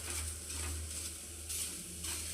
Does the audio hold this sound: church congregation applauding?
no